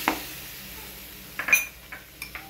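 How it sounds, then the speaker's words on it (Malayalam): Mango pickle gravy with vinegar being stirred in a pan: a few faint, scattered clinks and scrapes of a spoon against metal over a quiet background. "ഇനി വിനാഗിരി നമുക്ക് ഒഴിച്ച് കൊടുക്കാം. ഇനി ഒന്ന് ഇളക്കി കൊടുക്കുക."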